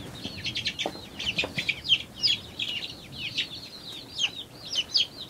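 Naked neck baby chicks cheep in a steady run of high, bright peeps, several birds close together, loud and continuous with no talk.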